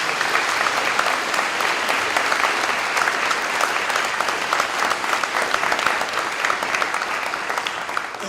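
Sustained applause from a large audience at a school renovation ribbon-cutting ceremony, dense and even, with steady clapping that holds its level throughout.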